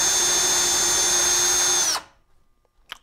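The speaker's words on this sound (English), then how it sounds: "let's try drilling out" A power drill bores out rivets from a vintage Dynastat DS 120 static eliminator, a loud steady high whine for about two seconds that cuts off abruptly, followed by near silence and a faint click.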